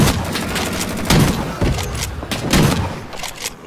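Shotgun fire in the video game Rising Storm 2, heavy booming blasts in a quick series of about three shots over dense battle noise, loud and close.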